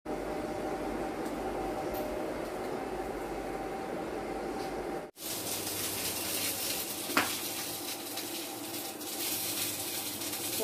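Five-spice seeds, bay leaf and dried red chilli sizzle in hot oil for a bottle gourd curry with fried fish head, a loud, continuous close-up hiss that breaks off briefly midway and then resumes.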